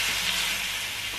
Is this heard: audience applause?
no